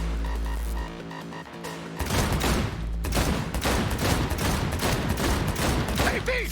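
Video game gunfire in Cyberpunk 2077 during a headshot, a dense burst of rapid automatic shots following a brief musical lead-in, loud and close.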